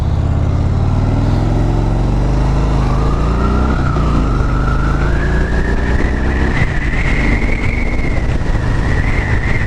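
A 2015 Harley-Davidson Street Bob motorcycle pulls away from first gear and accelerates hard, its loud, close engine note climbing steadily in pitch over a constant rumble of wind and road noise.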